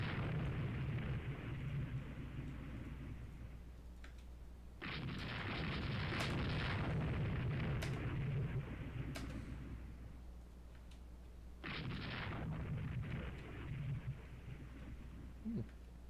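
Naval guns firing and shells bursting in the Rule the Waves 3 warship battle game, heavy rumbling blasts that swell in two long surges over a steady low drone, loud and close.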